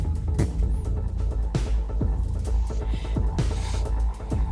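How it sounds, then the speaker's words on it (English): Rock drums play under a full band mix in a song, with steady kick and snare hits and washy cymbals in a roomy, moderately loud recording. "Love the drums here. You hear the room in the drums,"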